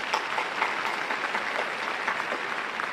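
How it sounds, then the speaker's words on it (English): Audience applause after a call to honor two families at a community event, a steady, dense wash of clapping from a crowd held at an even level throughout, with no voices over it. "let's give a round of applause to the Creech and Redhead families"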